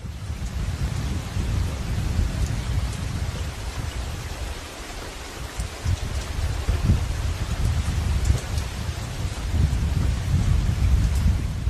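Heavy, unbroken rain pours in the Sierra de la Culebra while thunder rumbles low and rolls on throughout, a dense, close storm with no voices.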